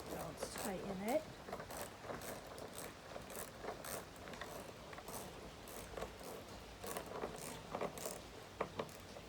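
Hand tools tighten a part on a Stihl 028 AV Super chainsaw that won't start, with a series of small clicking, ratcheting mechanical sounds close by under a soft voice.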